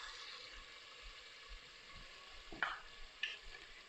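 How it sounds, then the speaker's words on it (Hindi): Whole spices for aloo gosht stirred and roasted in a pan: a soft, quiet sizzle with a few sharp scraping clinks of a spoon against metal near the end, no talk. "इन सारे मसालों को अब हम अच्छे से मिक्स करेंगे और अच्छी तरह मसालों की भुनाई करेंगे"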